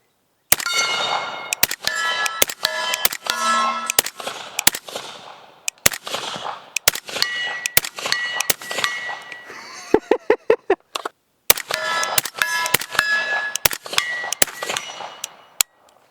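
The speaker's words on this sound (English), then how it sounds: "Obviously I ain't gonna wear ears because we're running subsonic 300 blackout suppressed." Suppressed 300 Blackout AR rifle firing 220 grain subsonic rounds outdoors, sharp loud clanging shots in uneven strings, some rapid bursts, with metallic ringing after each report and no voices.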